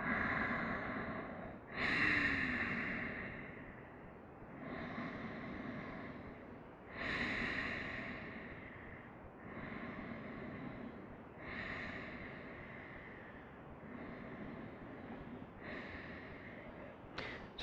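Slow, rhythmic breathing while seated in a yoga pose with eyes closed: about seven long, audible breaths, each with a sharper intake and a softer release, close to the microphone with no talking.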